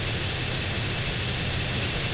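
A steady airplane engine drone from GTA San Andreas fills the moment, a loud, constant roar with a thin whine on top and no change in pitch.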